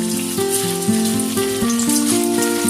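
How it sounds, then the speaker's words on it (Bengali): Chicken balls frying one by one in hot white oil give a steady, close sizzle throughout, partly covered by a louder melodic music track. "সাদা তেল ভালো করে গরম করে নিয়েছি এবারে একটা একটা চিকেন বলগুলো আমি ভেজে নেব"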